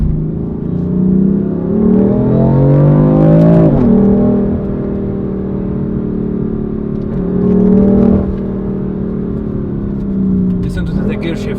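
A BMW M4 with a BMW performance exhaust revs up hard, with a quick gear shift interrupting the climb and then a second rise, close and loud, with someone talking over parts of it.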